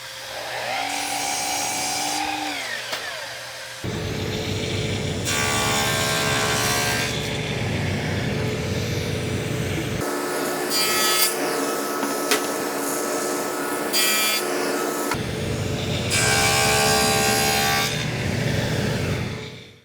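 Wood rail for a Mission-style sideboard being cut to length with a saw, several separate bursts of cutting noise with brief pauses between them, loud and close with no talk.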